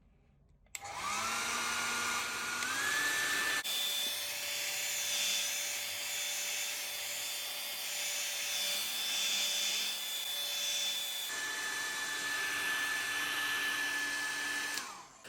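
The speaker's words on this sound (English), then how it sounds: "Use a heat gun or hair dryer to heat up the surface of the back panel." A heat gun or hair dryer heating the back panel of a Google Pixel 3 phone gives a steady loud whirring blow that starts abruptly, shifts pitch once partway through and runs continuously to the end.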